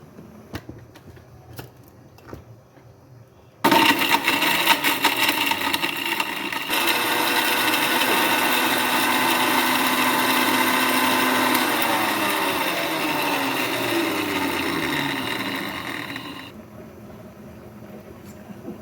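An electric spice grinder whirs loudly, grinding fresh whole spices for Lahori hareesa; it runs steadily for about thirteen seconds, then cuts off abruptly.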